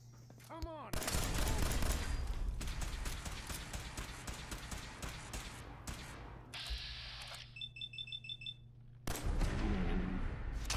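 Gunfire from gunners in Fallout 4, rapid repeated shots in long dense bursts with brief pauses and electronic beeping midway, fairly loud and close, with a voice speaking partway through.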